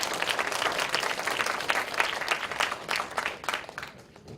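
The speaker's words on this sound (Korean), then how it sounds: "다시 한번 큰 박수 부탁드리겠습니다." An audience at a youth heritage ambassador graduation ceremony in Buyeo gives a big round of applause; brisk, continuous clapping from a room full of people, tapering slightly toward the end, with no speech.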